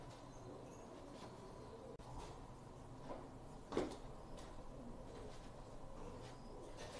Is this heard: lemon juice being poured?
no